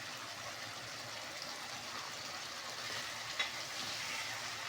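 Spice masala for potato katliyan fries in a pan with a quiet, steady hiss and sizzle that holds evenly throughout, with no talking.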